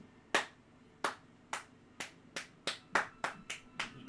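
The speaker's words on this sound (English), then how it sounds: "He claps for all of you." A single person claps slowly at first, then faster, about ten sharp, close claps in a steadily accelerating rhythm with no talk over them.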